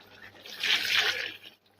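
Water poured into a pot of frying beef and tomatoes, a steady hissing splash that swells for about a second, then stops abruptly.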